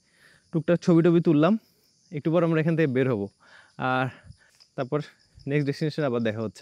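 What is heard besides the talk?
crickets chirping in a rubber plantation at dawn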